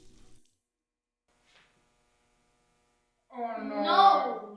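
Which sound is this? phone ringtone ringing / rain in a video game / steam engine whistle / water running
water running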